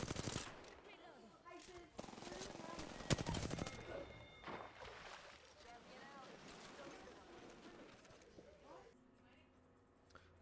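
Video game gunfire crackles in rapid bursts and single shots during a firefight, moderately loud and mixed with game voice callouts and background noise.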